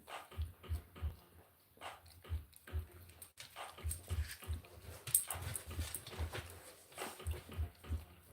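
A male dog whimpers and yips in short, repeated bursts, close by, keeping an uneven rhythm over a quiet indoor background.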